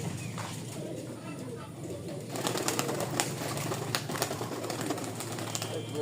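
Many pigeons coo softly and steadily in a loft around dusk, low murmuring calls under a constant wash of background noise with some faint chatter.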